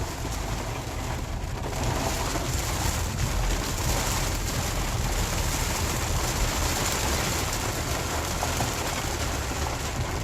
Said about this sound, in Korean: 오래간만에 이렇게 비가 많이 쏟아지네요.